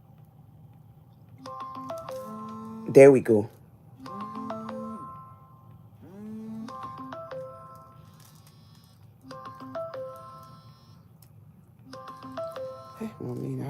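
A mobile phone plays a repeating melodic ringtone for an incoming call, several short tonal bursts recurring every couple of seconds indoors, with a brief spoken remark partway through.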